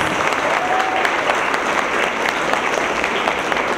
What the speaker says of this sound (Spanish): yo quisiera que diéramos un fuerte aplauso al instituto